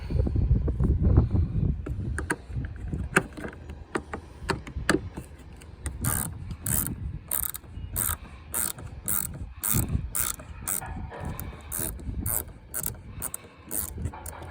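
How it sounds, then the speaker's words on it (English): A Phillips No. 3 screwdriver on an extension turning door lock screws out of a junkyard Mazda door, giving repeated ratcheting clicks in quick bursts, close and moderately loud, with some wind noise. "we're going to be using the Phillips number 3 to get to those screws in there"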